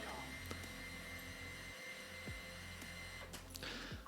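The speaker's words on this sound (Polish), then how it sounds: "silniki Mavica Mini możemy uruchomić na dwa sposoby" DJI Mavic Mini drone motors spinning up, a steady loud whirring drone with a low hum, continuous throughout, close by, with faint brief clicks and no voices.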